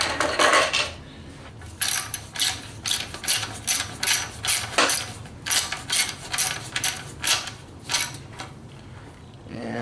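A hand ratchet torques bolts on a trash-picked lawn mower, giving a run of rapid, rhythmic clicking bursts at close range with brief pauses between strokes.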